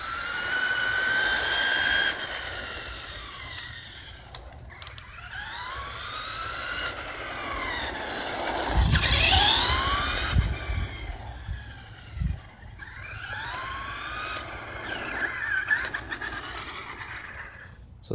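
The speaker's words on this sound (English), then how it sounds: "That's my Traxxas Rustler running as it's supposed to be." A Traxxas Rustler RC truck drives nearby, its electric motor whining in rising and falling sweeps as it speeds up, passes and slows, with a few sharp knocks along the way and no talking.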